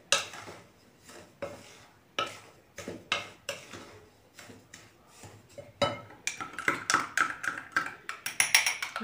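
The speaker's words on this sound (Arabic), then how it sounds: "الساشي الفاني والساشي تاع الخميرة. غادي نخلطوهم مع بعضياتهم" Vanilla sugar and yeast sachets being mixed together in a bowl for Moroccan baghrir: a steady run of light ticks, taps and clinks of a utensil against the bowl, growing quicker and brighter toward the end.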